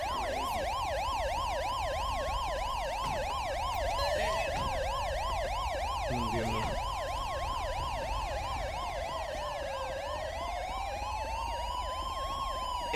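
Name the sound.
ambulance siren in GTA V LSPDFR mod video game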